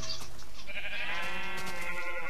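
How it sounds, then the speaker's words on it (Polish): Sheep bleat in a Minecraft game, a single wavering, drawn-out bleat heard loud and close, with no talking over it. "Jedna owieczka z drugą owieczką."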